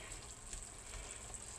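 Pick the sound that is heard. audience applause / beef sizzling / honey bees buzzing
beef sizzling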